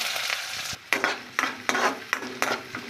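Onions hit hot oil with whole spices such as peppercorns and cinnamon, a loud close sizzle punctuated by a regular series of sharp stirring scrapes roughly every half second.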